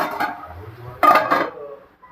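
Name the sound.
stirring chicken fry in a pan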